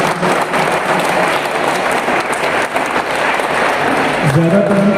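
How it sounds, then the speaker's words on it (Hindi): A crowd at a taekwondo championship ceremony claps in sustained, dense applause for several seconds, fairly loud and close, with a voice emerging near the end. "हम एक बार जोरदार तालियों से कंग्रेचुलेट करें"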